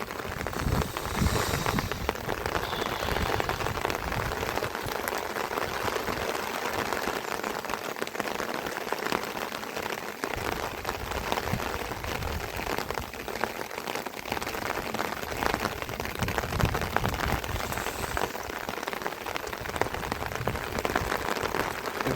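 Heavy rain falls steadily throughout, a dense continuous hiss and patter of drops with no voices.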